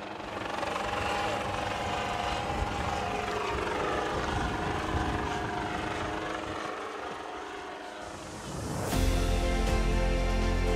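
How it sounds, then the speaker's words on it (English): A helicopter lifts off to begin a search, its rotor and engine forming a loud, continuous drone that swells into a heavier surge near the end. "the chopper's going in the air to start the process"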